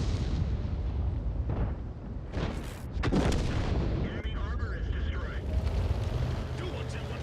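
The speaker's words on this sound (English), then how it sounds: "we'll see if we can splash him with our next shell" A tank's main gun firing in World of Tanks, heard as a few heavy booming shots amid rumbling engine noise, with someone talking over the top.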